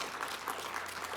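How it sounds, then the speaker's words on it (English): Audience applause at a conference session closing on a thank-you slide, a steady wash of clapping from a crowd filling the short stretch at even loudness with no voices over it. "this is the thank you slide, where you're supposed to applaud heartily so I can feel good about myself"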